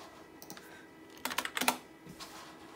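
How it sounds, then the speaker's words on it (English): Keys clacking on an iMac G4 keyboard, a few scattered taps followed by a quick burst of typing, close and fairly quiet. "If I type in YouTube,"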